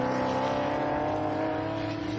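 A race car at Queensland Raceway during a touring car championship round roars steadily and loudly throughout, a dense, sustained engine drone with no pause or quiet gap.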